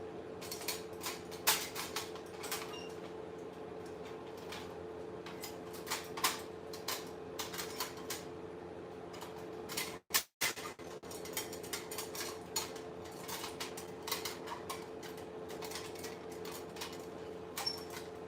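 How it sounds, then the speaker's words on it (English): A foldable camping stove made to burn canned heat fuel is folded shut. Its metal parts give off a run of small ticks and clinks, close by, with a short sharper clatter partway through and no talking. "it's just a foldable stove, completely fold together"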